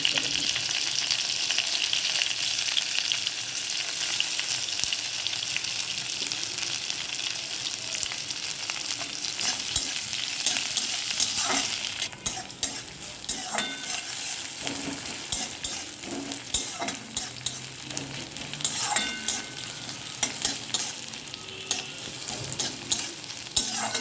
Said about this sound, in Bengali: কড়াইতে তেল গরম করে কালো জিরে দিয়ে দিয়েছি এবার দেবো লঙ্কা